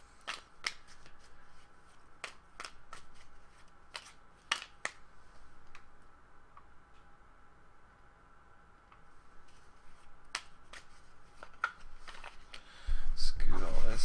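A deck of cards shuffled on a table during a home game session. Scattered crisp clicks and snaps sound close and fairly quiet, ending with a louder rustling burst.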